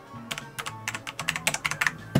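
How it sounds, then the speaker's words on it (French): Fast typing on a mechanical computer keyboard, close and crisp, with a quick uneven run of clacky keystrokes ending in one heavier press. "Clavier mécanique, on adore le son."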